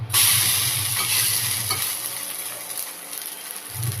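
Semolina breakfast batter fries in a pan over low gas as it is stirred and turned, giving a steady close-up sizzle with soft scraping strokes and a brief quieter pause.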